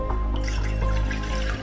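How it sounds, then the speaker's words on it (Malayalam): A little water poured into a cooking pot holding tomatoes for pickle, a short close splashing trickle with liquid sloshing, no talking. "നമുക്ക് ടൊമാറ്റോ വേവിക്കാൻ വേണ്ടിയിട്ട് ഇത്തിരി വെള്ളം ഒഴിക്കാം പാത്രത്തിലോട്ടെ."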